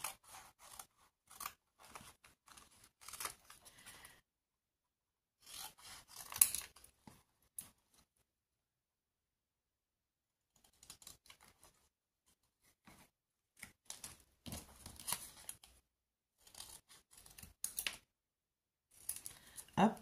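Scissors snip through material in short bursts of crisp, close cuts, separated by quiet pauses, with a soft voice now and then.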